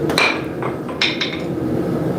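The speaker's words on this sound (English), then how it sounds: "Still drop hammer there." A drop hammer forging a steel spear head, two or three heavy metallic blows ringing close and loud in a workshop, with no talk.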